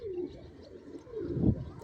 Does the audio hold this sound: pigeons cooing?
yes